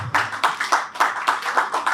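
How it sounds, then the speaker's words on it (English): A short burst of audience applause at a real estate talk, several claps in quick irregular rhythm, sounding like a small group applauding close by. "The applause can be louder."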